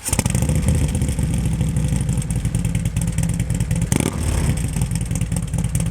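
A 2016 Harley-Davidson FXDLS Dyna Low Rider S convertible revs its exhaust loudly and close by, a steady deep throbbing rumble with rhythmic pulses and a brief dip near the four-second mark.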